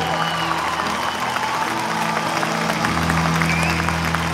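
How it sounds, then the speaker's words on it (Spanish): Arena crowd at Monticello applauds and cheers steadily, a continuous dense wash of clapping with faint voices throughout. "Johnny, hermano querido, recibe un aplauso de Chile."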